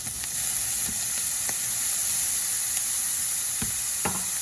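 Crab fried rice made with Dungeness crab sizzles steadily in a hot pan, with a few scraping knocks from a utensil as it is stirred, close and continuous with no talking.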